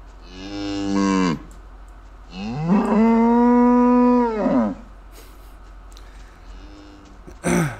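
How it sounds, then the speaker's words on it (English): Cattle mooing in a video game, two long drawn-out moos, one shorter followed by a longer, louder one, close and clear over a quiet background with a brief noise burst at the end. "Hey, cows."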